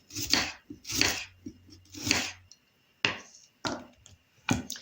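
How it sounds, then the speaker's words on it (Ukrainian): A knife dices an onion on a cutting board in irregular bursts of quick close taps, pausing between runs, in an otherwise quiet kitchen. "кришимо її маленькими кубиками"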